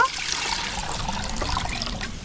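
Water is poured into a pan for chicken biriyani, a steady, close trickling and splashing stream that continues evenly throughout.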